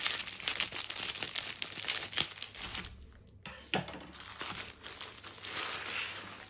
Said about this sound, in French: je vais l'ouvrir avec des ciseaux.